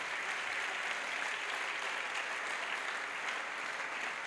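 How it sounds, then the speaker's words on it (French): A crowd applauds at an outdoor evangelism crusade, with dense, even clapping that holds steady throughout and no voices over it. "A clap to Jesus Christ."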